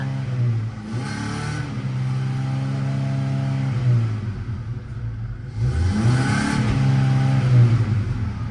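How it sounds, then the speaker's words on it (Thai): A car engine held at steady high revs with the accelerator pressed, stumbling and misfiring as it struggles to pick up; loud and close, with surging and dipping bursts and no talk. "อันนี้เหยียบคันเร่งไว้นะ ดูคันเร่ง ลงเองนะ"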